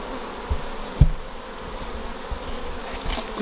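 Honey bees buzz steadily at an open hive during a colony inspection by a Derbyshire bee improvement group, a dense continuous hum with one brief knock near the start and no talk.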